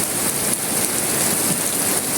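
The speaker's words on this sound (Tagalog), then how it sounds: "So yun, lumakas talaga yung ulan, no?" Heavy rain pours down steadily outdoors, a loud, dense, continuous hiss of drops hitting surfaces close by, with no speech.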